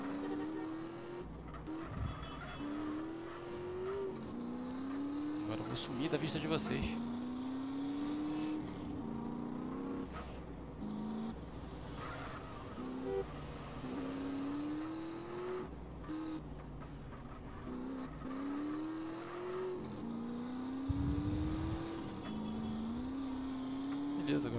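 A motorcycle ridden in GTA San Andreas, its engine repeatedly rising in pitch through gear shifts, with tire squeals and traffic around it and someone talking over it.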